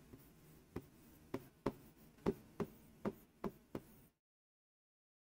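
Marker or chalk strokes on a board while a teacher writes Sanskrit compound examples for a Hindi grammar lesson, about nine distinct taps and scrapes in a steady rhythm, close and fairly clear, then sudden silence.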